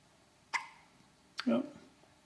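A baby hiccuping: two quiet, sharp hiccups about a second apart, the second followed by a short soft vocal sound, in an otherwise quiet room.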